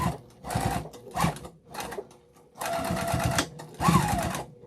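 Sewing machine stitching a Nantucket boxy bag along a zipper, running in short bursts of rapid mechanical whirring with brief pauses between them, close and clear, with no talking.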